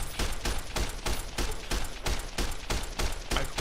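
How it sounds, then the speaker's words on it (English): Gunshots ring out in Fallout New Vegas, a steady run of loud, evenly spaced shots, about three each second, heard close with no voice over them. "Sorry, I am yelling over the gunshots, aren't I?"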